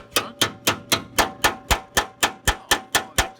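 A hammer strikes metal to beat it flat, about thirteen sharp, evenly spaced clanging blows in a steady rhythm, loud and close with no talk.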